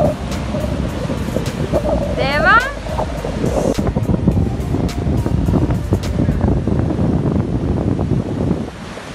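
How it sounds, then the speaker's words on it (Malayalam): Strong wind buffets the microphone at a chilly beach, with surf rolling in as a steady broadband roar throughout, a brief high whistle or squeal near the start, and voices faintly underneath. "നല്ല കാറ്റ്."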